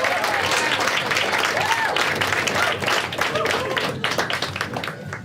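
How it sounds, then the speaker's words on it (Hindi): Stand-up comedy crowd applauding at a live show, a dense, steady wash of clapping filling the room that thins slightly near the end, with some voices mixed in. "एक बार खुद के लिए ताली बजा सब लोग।"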